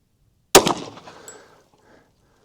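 A single sharp Glock pistol shot fired at an outdoor target, loud and close, with a quick decaying echo and then quiet.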